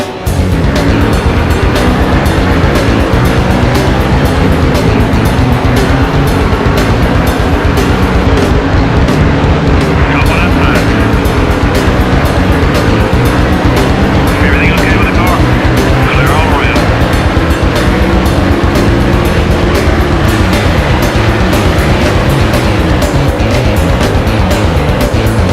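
Pack of stock cars roaring away at the green flag of The Winston race in NASCAR Thunder 2003, a dense continuous engine drone that stays loud and steady throughout, with race commentary talking over it.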